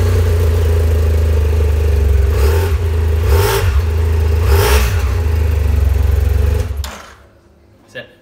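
A 2011 BMW F800ST motorcycle engine runs at a loud, steady idle close by, blipped upward in three quick revs before cutting off abruptly, leaving a faint click in the quiet.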